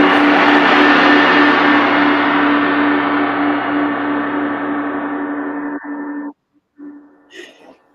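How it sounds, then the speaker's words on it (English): A gong struck once and left to ring out, a loud, long shimmering wash that slowly decays over several seconds before cutting off, with a little faint sound after. "And Jim, this gong is for you."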